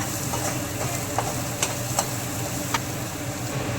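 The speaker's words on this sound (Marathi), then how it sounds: "मसाले छान तेलामध्ये झाले पाहिजे" Spices, green chillies and curry leaves fry in hot oil in a pan for a semolina snack, giving a steady close sizzle with a few sharp crackles and light stirring scrapes, no talking.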